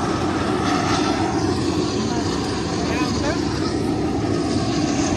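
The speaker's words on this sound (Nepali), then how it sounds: "सौर्यको प्लेन आएछ." A Saurya Airlines airplane at an airport in Biratnagar produces a steady, broad engine roar at moderate distance, continuous throughout with a faint rising whine partway through.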